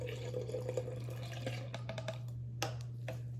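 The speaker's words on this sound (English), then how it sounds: "we're gonna use the funnel and slowly pour it in" Faint trickling and dripping of liquid poured slowly through a funnel into a density tower, with a few soft splashes, over a steady low electrical hum.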